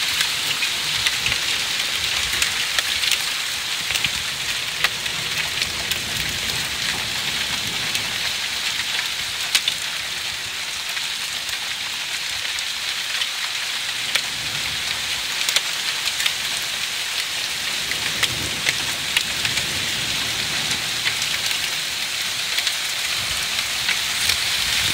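A heavy downpour in Newcastle with hail bouncing, a dense, steady hiss of rain on surfaces with scattered sharp ice ticks throughout, close and continuous.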